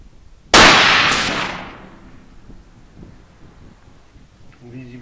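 A single loud, sharp rifle shot from a HP Varmint Slide rifle in 6mm BR caliber rings out near the start, with a decaying echo tail and quiet background afterward.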